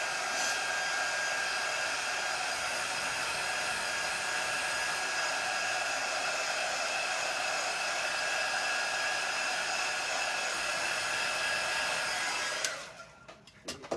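A hair dryer blows steadily to dry a chalk-decorated craft project, a loud continuous whooshing whir that runs without a break before switching off near the end, leaving brief faint handling sounds.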